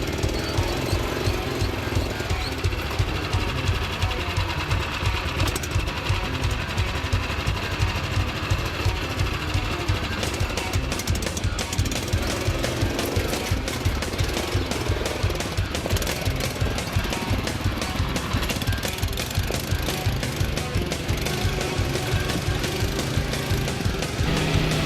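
A ROKON motorbike engine thumps steadily and rapidly while riding off-road over a rough route, a close, continuous low pulsing drone that holds evenly for the whole stretch, with no one talking.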